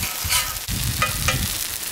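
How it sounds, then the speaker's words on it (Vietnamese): Fish cakes and skewers frying in hot oil, a steady close sizzle and crackle with occasional stirring scrapes, no voices. "mình còn phải chiên thêm mấy cái chả nè rồi xiên que nữa"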